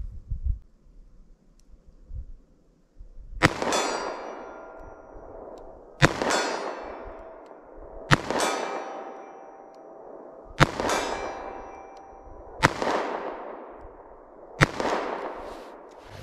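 .38 Special rounds fired from a compact handgun at a target 50 away, five sharp loud reports spaced a couple of seconds apart, each ringing out with a decaying metallic echo over a quiet outdoor background.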